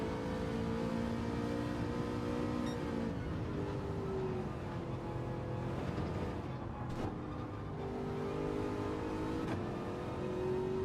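Race car engines and exhausts in a Gr.4 league race in Gran Turismo 7, several engines droning and revving together at steady loudness, with pitch rising and falling as cars shift and accelerate, no talk.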